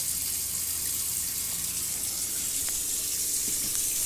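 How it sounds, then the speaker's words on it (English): A steady, even hiss of water runs from the faucet of a 2020 Greyhawk 29MV RV, fed by the onboard water pump, with no one speaking. "we are now running this water with the onboard water pump"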